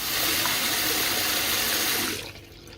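Water runs hard from a repaired tap with a damaged valve seat, splashing into a sink as a loud, steady rush. It cuts off abruptly near the end when the tap closes.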